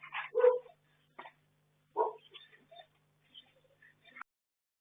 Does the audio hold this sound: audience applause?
no